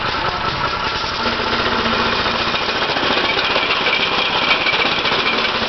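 A mini quad engine idles close up, a rough, rapid mechanical chatter that stays steady and loud throughout with no voices.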